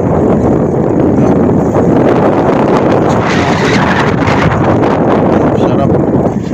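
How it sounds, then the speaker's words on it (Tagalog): Strong wind blasts loudly and constantly against the microphone among new buildings at Arca South, Taguig City, Philippines, a heavy roaring rumble that never lets up. "lakas ng hangin"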